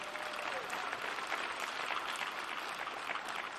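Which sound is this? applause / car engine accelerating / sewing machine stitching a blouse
applause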